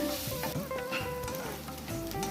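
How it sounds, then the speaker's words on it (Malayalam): Onion sautéing with salt in a pan for an okra stir-fry, a close sizzle with scraping stirring strokes recurring every second or so, and no speech. "സവാള ഒരു ഗോൾഡൻ കളർ ആവുന്നവരെ നമുക്കിതൊന്ന് വഴറ്റിയെടുക്കേണ്ടതാണ്"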